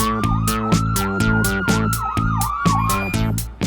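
A wailing fire engine siren sweeps up and down repeatedly in a Catalan cartoon, loud and continuous over a bouncy musical backing with steady beats.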